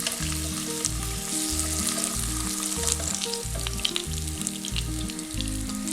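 Browned chicken sizzling in hot oil before being lifted out, a continuous near crackle and hiss filling the clip on its own, with no voices.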